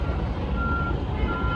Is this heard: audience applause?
no